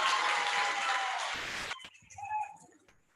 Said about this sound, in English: Can we have another round of applause for the band,